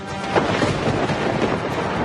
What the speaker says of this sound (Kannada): ಉತ್ತರ ಭಾರತದಲ್ಲಿ ವರುಣನ ಅಬ್ಬರ ಜೋರಾಗಿದೆ